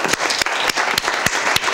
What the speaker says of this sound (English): So why don't we give a vote of applause to everybody here